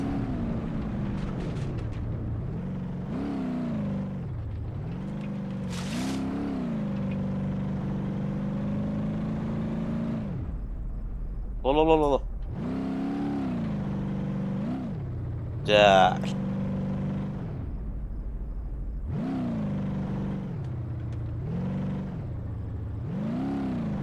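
VW Transporter T4 van on village and off-road roads in BeamNG.drive, a steady engine drone rising and falling with throttle, gear changes and a couple of short higher whines, heard close throughout.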